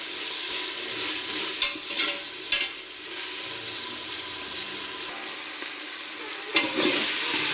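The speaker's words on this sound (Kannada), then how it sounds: "ಈಗ ಈರುಳ್ಳಿ ಎಲ್ಲ ನೀಟಾಗಿ ಫ್ರೈ ಆಗ್ತಾ ಇದೆ." Onions frying in oil in a home kitchen, a steady moderate sizzle broken by a few sharp stirring scrapes and clatters, then a louder burst of hissing near the end, no talking.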